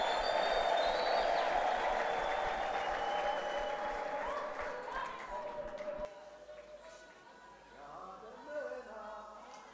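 A church congregation claps in praise during a worship service. Dense, lively applause mixes with voices and a few tonal sounds, then cuts off abruptly partway through, leaving quiet voices and faint sounds.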